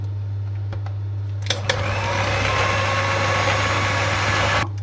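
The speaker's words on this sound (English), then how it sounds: "And now I'm going to continue whisking for another 2 minutes." Electric whisk beats cupcake buttercream frosting with milk, a steady loud motor whine that starts abruptly and runs continuously before cutting off, close by with no talking.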